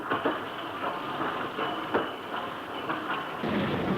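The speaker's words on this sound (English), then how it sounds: "our engine for the journey will be 8F 48715" British Railways 8F steam locomotive 48715 hauling a short train of limestone-filled hoppers, a continuous rumbling roll with rhythmic clicks of wheels over rail joints, heard from inside the guard's van.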